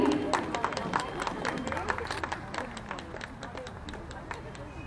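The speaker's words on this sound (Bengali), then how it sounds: "সবাই একটু হাততালি।" Audience applause at a gathering at Ananda Ashram, a crowd clapping in a quick patter that is fairly close and gradually fades over a few seconds, with voices murmuring underneath.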